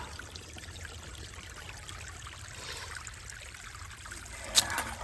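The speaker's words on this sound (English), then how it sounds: "It's just a hole in the rock, and the water comes out." Water trickles out of a hole in the rock beside a hiking trail in Amicalola Falls State Park, a soft steady dribble heard close by and alone, with a brief sharp knock near the end.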